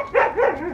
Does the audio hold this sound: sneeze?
no